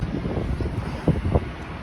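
Strong wind gusting across a microphone outdoors in snowy weather, a steady low rumbling roar with two brief louder buffets near the end, no talk.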